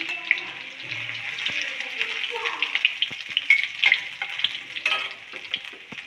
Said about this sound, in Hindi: लहसुन, अदरक, इनको अच्छे से भूनेंगे